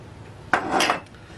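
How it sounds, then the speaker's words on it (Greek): Flour and a heaped spoon of baking powder are stirred and tipped in for an easy pie without pastry sheets, giving one short scraping, clattering burst of utensil against a bowl, close and fairly loud, then quiet. "Ανακατεύουμε και το ρίχνουμε και αυτό μέσα."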